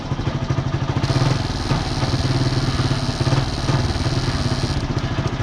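A Yamaha YTX125 motorcycle engine running with a misfire, loud and close, with a steady uneven chugging idle and irregular stumbles, plus a high whine across most of the clip.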